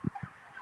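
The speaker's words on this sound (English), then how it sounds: "So these are our turkeys here." Turkeys on a turkey farm in Alberta, Canada give two short, close gobbling calls in quick succession, the first louder, over a faint farmyard background.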